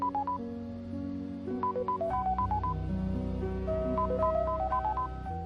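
A telephone ringtone in an Indonesian TV drama scene plays as a bright, melodic run of electronic notes over a sustained backing, cycling continuously and fairly loud, with no talking.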